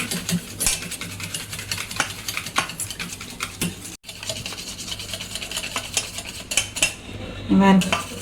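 Oil and curd being mixed in a bowl for an eggless wheat cake, a spoon or whisk clattering rapidly and continuously against the bowl, close and fairly loud with no voices.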